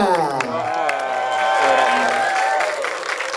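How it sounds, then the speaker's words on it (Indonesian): An audience claps and cheers to welcome a singer at a press conference for the film Lastri: Arwah Kembang Desa. The continuous applause sits under loud music with a sustained melodic tone. "boleh berikan tepuk tangan dong"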